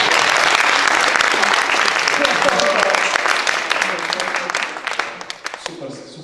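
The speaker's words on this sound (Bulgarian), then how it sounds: "Аплодисменти." An audience at a talk on weight training for IT workers bursts into loud, dense applause that holds strong, then thins out and tapers off near the end.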